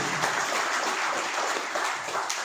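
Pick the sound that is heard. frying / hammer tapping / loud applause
loud applause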